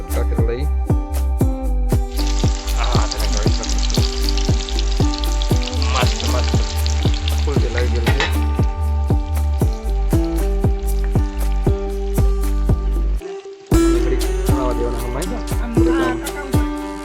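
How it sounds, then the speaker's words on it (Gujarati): Banana slices frying in hot oil for crisp banana chips, a loud, steady sizzle and bubbling close up, with frequent clinks and scrapes from stirring. A brief dip in the middle cuts the sound before the frying resumes. "તેલ ગરમ થઈ જાય એટલે આપણે તળવાની શરૂઆત કરી દઈએ"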